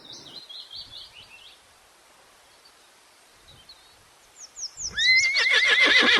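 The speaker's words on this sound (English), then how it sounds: "H for horse" A horse gives a loud, quavering neigh near the end, rising sharply and trembling, after a stretch of light birdsong and quiet background.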